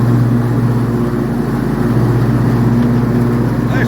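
A new John Deere lawn mower running on grass gives a loud, steady engine drone with a low hum, constant and close throughout, with no talking.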